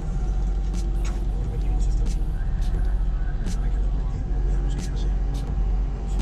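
An ADO airport service coach, an Irizar i8, drives along with a steady low engine rumble and road noise, brief hissing bursts over it, and people talking through much of it.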